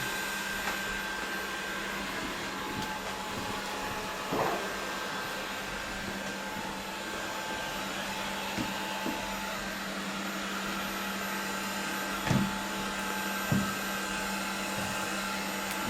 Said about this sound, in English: Now you can use the remote control to direct the vacuum.